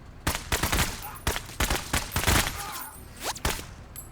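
Gunfire in a turn-based tactics video game, a quick burst of sharp, loud shots with uneven spacing, followed by a softer whooshing sweep.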